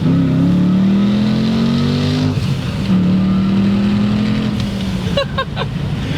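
Supercharged 400 hp Lincoln Town Car accelerating hard on a back road, a loud close engine note rising through gears with a shift break midway, ending in a few sharp pops.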